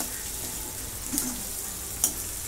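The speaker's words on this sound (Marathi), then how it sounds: "खरपूस लसूण भाजला की वास छान येतो" Soft, steady sizzle of garlic roasting in a hot frying pan for a Marathi zunka, with a couple of faint clinks of stirring over the low hiss.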